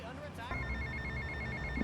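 A phone rings in GTA Vice City Definitive Edition, a steady electronic trill that starts about halfway through and repeats evenly over a low game ambience, loud and close.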